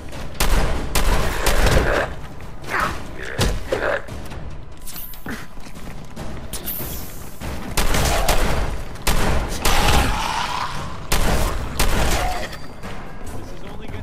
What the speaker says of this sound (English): I got a shotgun, what am I doing?